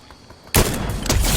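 Gunfire in Fortnite starts abruptly after a quiet moment, a loud burst of shots with dense crackling continuing to the end.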